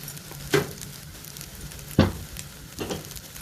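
Rice toasting in a pan, a faint steady sizzle broken by three sharp scraping stirs spaced about a second apart.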